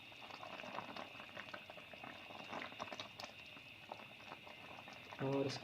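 Halwa mixture of cracked wheat porridge bubbling and frying in water in a pot, a steady close boiling patter with continuous small pops throughout.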